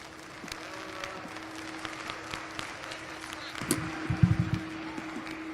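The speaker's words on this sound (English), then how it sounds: "Give these guys a big round of applause." Audience applause for young sheep showmen at a Weber County fair sheep show, a short burst of clapping that swells near the end over a steady hum in a large arena.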